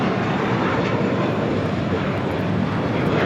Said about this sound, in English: This is JetBlue Airways Flight 300 taking off to Fort Lauderdale on an A321.